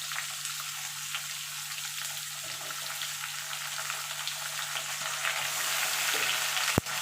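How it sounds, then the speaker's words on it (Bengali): Potato, papaya and green banana pieces frying in a pan, a steady close sizzle with soft stirring, ending in one sharp knock of a utensil, no talking. "পেঁপেটা দিয়ে এবার আলু আর পেঁপেটা একটু ভাজা ভাজা করে নেব।"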